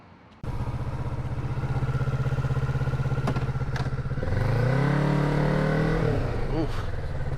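Kawasaki Z650 motorcycle starting off at dusk after a power wash and chain lube, engine suddenly loud and idling with a steady throb, then revving up and pulling away in rising and falling sweeps, close and strong.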